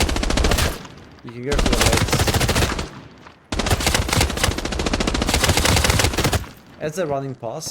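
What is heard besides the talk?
MA55 rifle gunfire in the video game Arena Breakout Infinite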